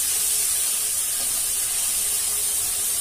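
A spice mixture fries in a pan for cluster bean curry, giving a steady, loud hissing sizzle that holds evenly throughout without pause.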